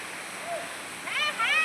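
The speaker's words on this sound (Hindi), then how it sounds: "काफ़ी दूर चल के अब हमको पानी मिला है, भर रहे हैं बोतल पानी की।" A mountain stream rushes with a steady broadband hiss while water bottles are filled on a Himalayan trek, with faint higher whistling tones near the end.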